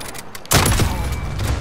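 A single loud gunshot in a video game, a sharp burst that cuts in partway through, followed by a sustained, noisy reverberant tail.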